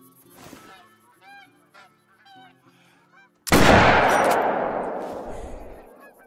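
Several geese honk from a flock in theHunter: Call of the Wild, a run of short calls at moderate distance, then a loud sudden gunshot blast with a long decaying echo.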